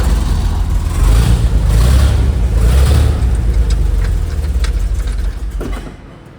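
Engine of a 1969 Chevy C30 truck runs on a temporary unwelded exhaust with a steady, loud, low rumble close by, fading slightly toward the end.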